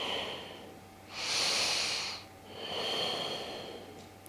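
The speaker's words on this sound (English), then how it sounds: "Inhale and exhale." Slow breathing during a seated chair yoga class: a soft airy exhale swells for about a second, fades, then a second gentler breath follows, close and quiet with no talking.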